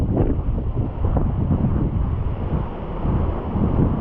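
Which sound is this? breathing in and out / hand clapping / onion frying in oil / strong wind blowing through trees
strong wind blowing through trees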